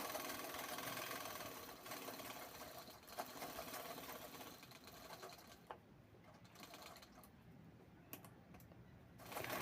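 A sewing machine stitches the open side of a handmade khan-fabric piece, its rapid mechanical chatter running steadily and close up, with short pauses and a few sharper clicks near the end.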